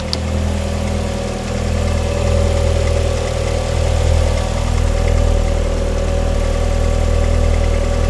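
A 1999 Audi TT 8N engine idling, a steady low rumble with an even hum, close and loud throughout with no talking.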